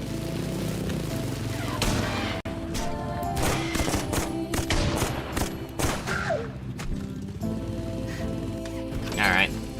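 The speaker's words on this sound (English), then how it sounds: "I fucking hate the machine gun." Rapid bursts of automatic gunfire from a machine gun in a video game, dense, loud volleys with booms and crackles layered together.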